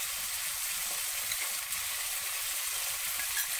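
Ginger paste hitting hot oil in a frying pan for a Bengali chickpea, potato and paneer vegetarian curry, giving a steady, close, loud hiss of sizzling throughout with no voices.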